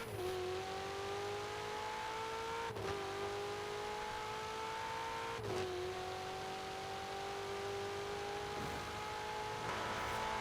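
Ferrari Portofino V8 engine in Forza Horizon 4, revving up through gears with rising pitch and sharp drops at each shift, heard continuously over a dense, noisy background.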